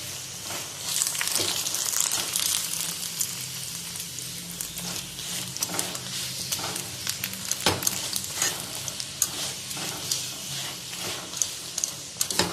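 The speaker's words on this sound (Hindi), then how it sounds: "अब हम इस पे घी लगाएंगे और इसकी साइड चेंज कर लेंगे।" A chicken tikka paratha roll cooks in ghee on a flat pan, giving a continuous close sizzle with occasional sharp pops and scrapes and no talk.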